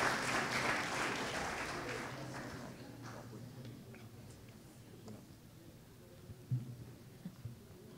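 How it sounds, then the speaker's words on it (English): A church congregation at a Seventh-day Adventist Founders Day worship service applauds, the clapping loudest at the start and fading away over several seconds, leaving a quiet room with a few scattered knocks. "Let's give him a round of applause."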